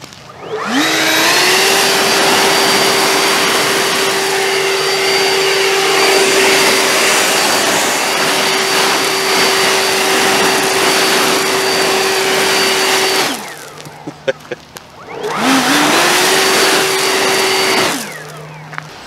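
A Ryobi 40-volt leaf blower pushing a pile of gravel: a loud, steady high-pitched motor whine with rushing air runs for a long stretch, cuts out briefly, then spins up again and runs once more.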